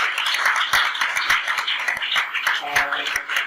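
Applause from a church congregation after a sermon, steady clapping across the whole stretch with some voices mixed in.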